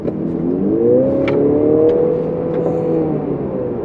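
Mercedes-Benz GLC 300 AMG Line SUV accelerating, its exhaust note rising in a steady, loud drone with harmonic sweeps, close by and without talk.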